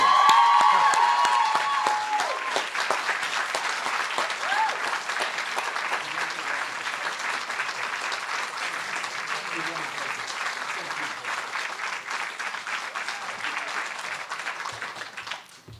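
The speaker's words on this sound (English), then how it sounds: "So last, loud applause and whoops for Professor Williamson." A university alumni event audience gives long, steady applause, loudest at the start and then settling into a sustained even clatter of many hands; a brief voice or whoop rises near the beginning.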